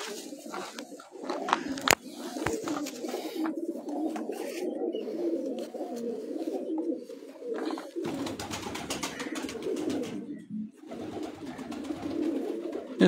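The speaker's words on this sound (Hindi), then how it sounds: "भाई ये कबूतरी दिखाया जी" Pigeons cooing on a rooftop, repeated soft throaty coos close by in a continuous rolling rhythm with a few sharp knocks.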